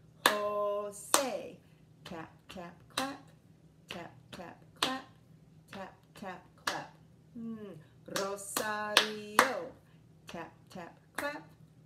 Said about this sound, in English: tap, tap, clap, tap, tap, clap